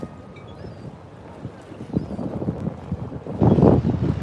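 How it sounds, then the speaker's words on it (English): Water laps near sailing boats on the Lower Manhattan waterfront, with soft splashes and a low wash that swells louder toward the end, roughened by wind on the microphone. "this is the sound of the water"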